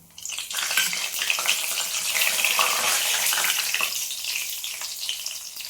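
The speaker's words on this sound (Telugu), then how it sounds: "ఈ ఆయిల్లోనే ఆవాలు జీలకర్ర మెంతులు వేసుకుంటున్నాను" Mustard seeds, cumin and fenugreek sizzle in hot oil left from frying fish, a bright crackling hiss that rises quickly and holds steady, close and alone.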